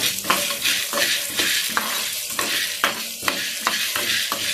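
Onions sizzle and crackle in a hot pan while a utensil scrapes and stirs in repeated strokes, close up and steady, with no voices.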